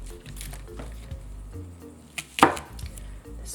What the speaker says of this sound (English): Cut off the end and cut off the root end.